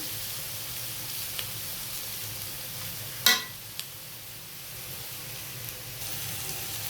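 Food frying in a wok with no water added, a soft steady sizzle with a sharp clatter of the utensil midway and a smaller knock after.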